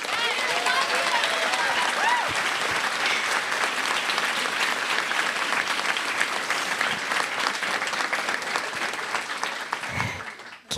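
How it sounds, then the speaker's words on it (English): Audience at a book talk for a memoir clapping in a loud, sustained round of applause with some crowd voices mixed in, fading out near the end. "Keep applauding because we're not ready."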